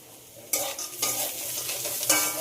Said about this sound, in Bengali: বাদামটা দিয়ে আবার একটু ভেজে নেব